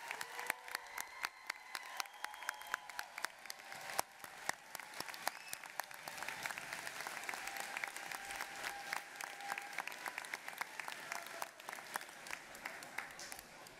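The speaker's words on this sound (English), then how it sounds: "So graduates, would you please stand to applaud your family, friends, and supporters who are here supporting you today." Standing graduates at a 2018 college commencement applaud their families and friends, a sustained crowd applause of many clapping hands filling the hall, steady and moderately loud throughout with a faint voice underneath.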